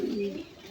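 A single pigeon gives a short, low coo, close and clear against quiet surroundings.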